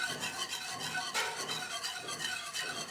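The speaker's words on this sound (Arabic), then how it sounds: "من التحريك حتى يغلي لنا الحليب وتبدا تعقد" A spoon stirs starch-thickened milk in a pot on the stove until it boils, giving a continuous close scraping and rubbing with a faint bubbling sizzle and no voices.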